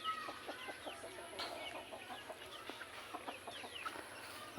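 Rhode Island chickens on a small backyard farm cluck in repeated short bursts, with occasional rooster-like calls, over a steady low hum of the surroundings; no talk is heard.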